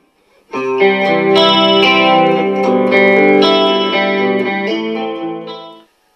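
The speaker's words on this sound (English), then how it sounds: "I can change the pickups and add some chorus" Clean electric guitar chords with a shimmering chorus effect, strummed and ringing out loudly before fading to silence.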